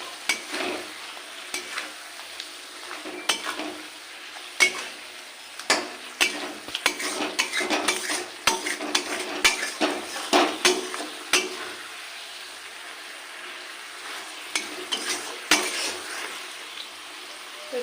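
Eight fish fry and sizzle in a pan while being turned over, with steady spitting oil and frequent sharp clinks and scrapes of a utensil against the pan, close and moderately loud.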